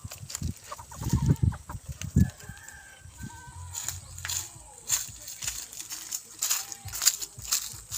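Chickens cluck and squawk close by in a farmyard, with bursts of fowl calls over soft background noise and a voice speaking intermittently.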